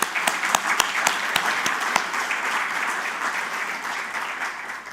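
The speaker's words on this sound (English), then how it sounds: "I think you deserve a round of applause for that." A conference audience at a health and AI event breaks into steady applause, with a few louder claps standing out at the start before it settles into a dense, even patter.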